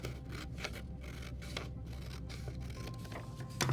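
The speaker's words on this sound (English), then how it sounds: "I'm gonna take my scissors, and I'm going to cut on that line" Scissors snip through paper along a drawn line while a square is cut out, giving a run of soft, close rubbing and scraping cuts in an irregular rhythm with no talking.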